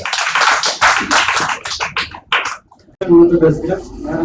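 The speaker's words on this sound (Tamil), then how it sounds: "என்னுடைய கைத்தட்டு மேலும் மேலும் அதிகப்படுத்தி தான் கைத்தட்டுவேன்" Close hand claps from an audience at a stage talk, several bursts mixed in with someone speaking in Tamil, followed by a louder voice near the end.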